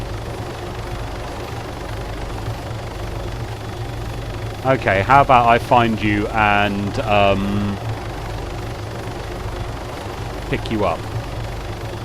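A helicopter lifts off in the military video game ArmA 3, its engine and rotor making a steady, low drone that runs throughout while someone talks over it.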